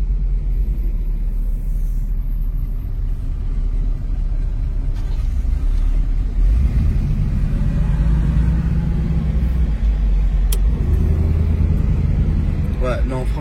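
Car engine rumbling at steady low level throughout while driving, with someone talking over it.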